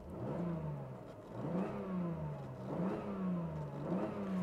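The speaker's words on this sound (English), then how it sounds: "We can only hear the engine, and it's running so smooth." A 1994 Mercedes SL320 engine running smoothly, close and steady, with three rising revs that each swell and then settle back into an even hum.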